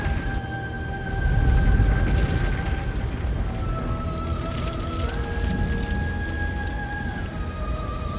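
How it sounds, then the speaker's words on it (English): A cabin blowing apart in the game Slay the Princess, a deep boom followed by a scatter of falling debris over sustained eerie tonal music. "As you step forward, the cabin explodes. You're flung backwards, violently slamming into a tree as debris rains down around you."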